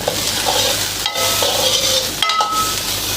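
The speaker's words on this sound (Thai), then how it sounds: "คั่วไปเรื่อยๆครับผมให้มันหอม" Chili and garlic are stir-fried in a wok, a loud, close, steady sizzle punctuated twice by the scrape and clatter of a spatula tossing the mix, with no voices.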